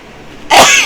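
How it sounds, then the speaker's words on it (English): A single sharp sneeze bursts out near the end after a quiet, restrained lead-in, loud and close with a bright breathy blast. "I'm trying not to sneeze."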